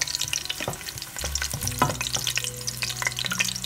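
Garlic cloves and chili peppers fry in a generous splash of hot olive oil, giving a steady close sizzle and crackle with occasional stirring clatter, no voices.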